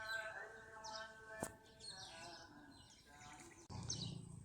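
A redshank wading bird calls at Laguna Park, a river pier nature reserve in Malaysia, giving faint, distant chirping notes over quiet outdoor ambience, with a brief sharp knock partway through.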